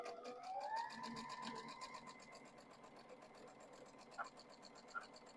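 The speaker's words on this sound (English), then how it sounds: "we'll be sewing across this from end to end" A sewing machine runs steadily while stitching a quarter-inch seam end to end across a Double Maltese Cross quilt block, a continuous mechanical whir with a couple of brief clicks near the end.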